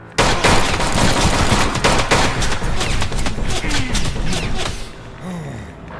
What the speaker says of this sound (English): that is the sound of a monster approaching.